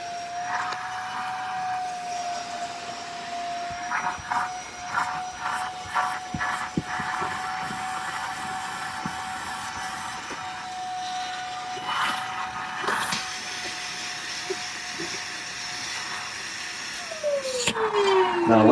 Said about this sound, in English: I'm gonna turn on my vacuum and then I'm gonna vacuum the arms and the seats